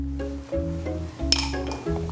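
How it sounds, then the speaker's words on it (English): A sugar cube dropped into a cocktail glass while mixing a Sazerac gives a bright glassy clink partway through, heard close over a steady low background hum. "First, you'll take a sugar cube and place it in your glass."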